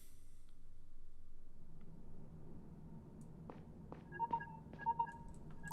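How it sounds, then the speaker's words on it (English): A phone rings in the video game Lacuna: faint electronic tones that start mid-clip, several short chirps over a low steady rumble. "Getting a phone call."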